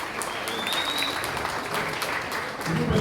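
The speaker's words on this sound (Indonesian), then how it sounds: "Tepuk tangan." A crowd of students applauding, a dense continuous patter of clapping at moderate distance, with faint voices mixed in near the end.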